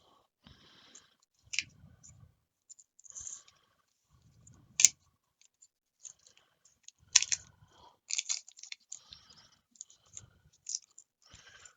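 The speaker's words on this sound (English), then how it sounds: "Let's go ahead and pull the tape off." Masking tape peeled off a freshly painted part of a DeAgostini Millennium Falcon model, heard as scattered short crackly pulls and clicks with quiet gaps between them, close and fairly soft, with no talking.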